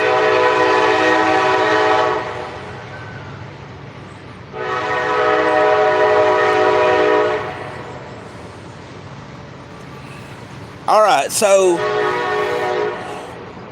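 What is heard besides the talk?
passing train with horn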